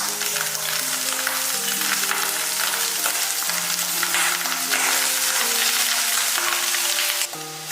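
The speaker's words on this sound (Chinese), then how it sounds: "接着加入酸白菜，继续翻炒" Pickled sour cabbage stir-fried in oil in a clay pot, giving a steady, loud sizzle with scraping and stirring throughout; steady tonal lines of music play underneath.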